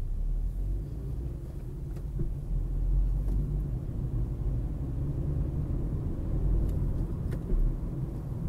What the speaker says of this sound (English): this is the heaviest traffic I've seen so far today